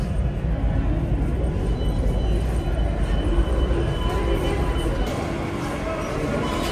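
A Delhi Metro train carriage gives off a continuous low rumble and rolling hum that stays steady throughout, loud and close, with people talking faintly inside the car.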